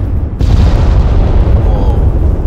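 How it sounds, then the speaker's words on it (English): A heavy mortar explosion in the video game ArmA 3 hits suddenly and loud, then rolls on as a deep, sustained rumbling boom. "Those mortars."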